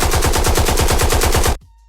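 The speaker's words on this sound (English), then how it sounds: "Gunshot!" A gunshot sound effect plays as a rapid, loud burst of machine-gun-like fire for about a second and a half, then cuts off abruptly.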